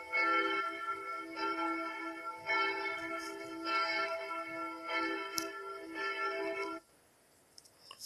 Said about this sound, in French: c'était tout pour le solo de la cloche numéro 2.